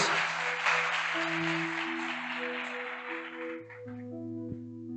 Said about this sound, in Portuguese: Vamos aplaudir a palavra de Deus bem forte para a palavra de Deus.